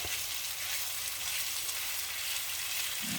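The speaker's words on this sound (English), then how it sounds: "You just want to get it browning. You want to brown that meat." Beef browning in a Dutch oven, a loud continuous close sizzle with bright crackling hiss that holds steady throughout with no talk.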